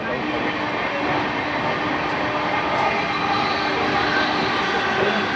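A moving passenger train on a journey near Bagnan and Kharagpur gives a continuous loud rumble and rattle from inside the carriage, steady and unbroken.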